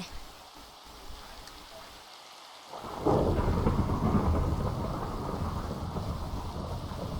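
Steady Minecraft rain with a low thunder rumble, quiet at first, then a sudden louder downpour that keeps roaring on without pause.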